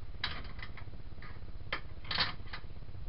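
Small metallic clicks and ticks from loosening and removing a bit on a budget router, a few sharp taps scattered unevenly over three seconds, quiet and close with no talking.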